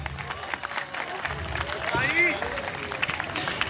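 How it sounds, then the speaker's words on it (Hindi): An audience at a staff annual dinner claps, a thin scattered clapping texture mixed with crowd noise and voices, swelling somewhat toward the middle before easing. "जोरदार तालियां।"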